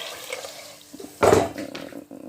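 Warm water is poured over 500 to 700 grams of urea in a container, a brief rushing splash that swells for a moment then settles into a faint trickle.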